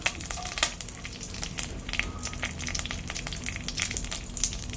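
Urad dal and chili fry in hot oil, sizzling and crackling steadily up close with sharp pops scattered through the loud, busy hiss.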